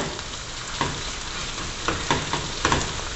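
Chopped onion and garlic frying in oil in a pan, a steady close sizzle with a few louder bursts as the mixture is stirred.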